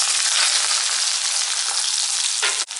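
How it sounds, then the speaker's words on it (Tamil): Onion and garlic frying in hot oil after mustard seeds, a loud, dense, continuous sizzle close by that dips briefly near the end. "இப்போ வெங்காயம், பூண்டு ரெண்டுமே சேர்த்துக்கலாம்."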